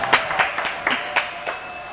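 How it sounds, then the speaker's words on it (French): A small audience claps briefly for a hypnotist at a hypnosis demonstration, a handful of sparse, uneven claps in quick succession, fairly quiet and without a crowd roar. "Applaudissements pour Edouard"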